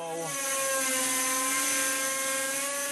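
A small, light insect-inspired drone flies in a laboratory, giving a steady high whining buzz of rotors with sustained tonal harmonics, loud and close, with no speech.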